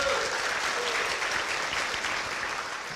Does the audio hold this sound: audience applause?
yes